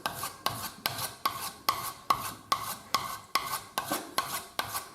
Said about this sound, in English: my buff stick, this is for polishing. So anyway, so down there it goes.